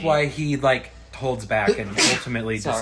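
A person sneezes once, sharply, partway through a stretch of continuous conversation, with voices talking before and after it.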